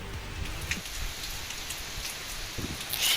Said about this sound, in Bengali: এসেছে এসেছে বৃষ্টি এসেছে এইবার জঙ্গলের আগুন নিভে যাবে